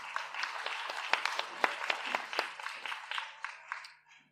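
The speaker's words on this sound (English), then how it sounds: "So please, a round of applause, Jacques Vermeulen." Applause from a conference audience for a speaker at a smart-city sustainability event, a dense patter of many hands clapping that rises, holds steady, then tapers off and fades out near the end.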